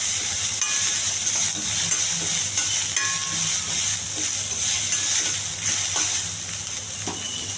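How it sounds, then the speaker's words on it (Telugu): Onions and green chillies fry briskly in a pan with a loud, continuous sizzling hiss, broken by light scraping and stirring taps throughout. "ఉల్లిపాయలు, పచ్చిమిర్చి, ఇది కొంచెం త్వరగా వేయించాలి."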